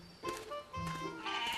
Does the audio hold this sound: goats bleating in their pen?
yes